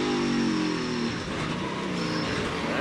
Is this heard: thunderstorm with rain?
no